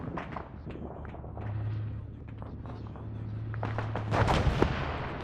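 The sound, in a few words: heavy machine gun fire in a military game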